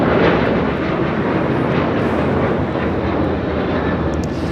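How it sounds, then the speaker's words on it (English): A jet airliner takes off from runway 25 right at LAX, its engines making a loud, steady broadband roar that holds at full strength throughout, with no voices. "We'll have a south side takeoff here coming up."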